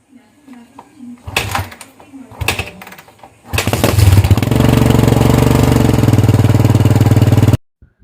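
A few mechanical clunks, then a Kawasaki Barako II 175 motorcycle engine starts and idles steadily and loudly for several seconds before cutting off abruptly.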